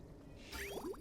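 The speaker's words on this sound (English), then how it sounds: "Let some water into here" Water flows into a chamber in the game Oxygen Not Included, heard as a short run of soft gurgling, bubbly drips and liquid squishes that rise in loudness halfway through, with no voices.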